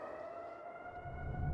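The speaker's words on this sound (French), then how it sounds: "C'est la sirène d'inondation de Manitou." Flood warning siren in Manitou, near Pikes Peak, sounding from far off as a steady wailing tone, fairly faint, with a low rumble rising toward the end.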